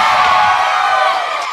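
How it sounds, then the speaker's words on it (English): Primary school children cheer together at a quiz event, a loud, dense crowd roar held for the whole moment. "Give them a cheer, everybody!"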